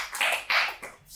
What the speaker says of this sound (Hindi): So एक बार ईशान की जोरदार तालियां।